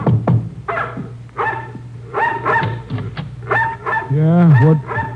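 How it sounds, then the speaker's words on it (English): A mongrel dog barks repeatedly at close range in a string of sharp, uneven barks that end in a drawn-out whining yelp, with faint talk underneath. "the dog barking at our heels"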